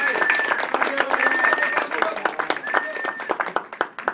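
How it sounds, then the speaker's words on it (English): Audience applause for a volunteer named Roger during a stage performance at an IBM open house, a steady wash of clapping with a voice talking over it and a few sharp claps standing out near the end. "Give Roger a big round of applause"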